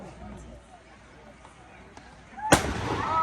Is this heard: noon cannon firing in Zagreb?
yes